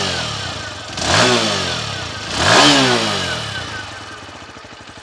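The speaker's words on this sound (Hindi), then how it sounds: "यहाँ पर मैं आपको इसका एग्जॉस्ट नोट कराना चाहूंगा" TVS Sport BS6 motorcycle with a single-cylinder engine, close by, revving twice in two rising-and-falling throttle blips over a steady idle, with the exhaust note rumbling between bursts and settling back to a loping idle.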